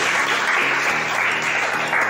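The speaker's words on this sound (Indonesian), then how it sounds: "Tepuk tangan untuk kita semua." A classroom of children claps together on a teacher's cue during a lesson, a steady, continuous wash of hand claps that stays loud throughout.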